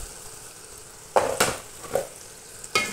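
Chopped tomato, capsicum and carrot are sautéed in oil, with a soft background sizzle broken by a few quick, louder bursts of stirring against the pan.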